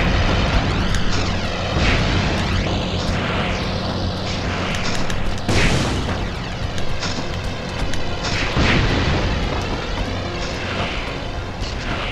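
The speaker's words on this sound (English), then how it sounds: "The plane is gonna blow if I don't clear a path for it." An out-of-control airplane in the Spider-Man 2 video game roars through a steady, loud engine drone, with booming rumbles scattered across it and no talk over it.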